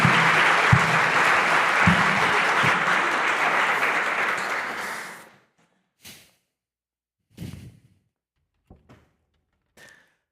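A conference audience at the CiRCE Fall Conference 2025 breaks into full, steady applause for about five seconds, then it fades out. Scattered faint thumps and shuffles follow in near silence.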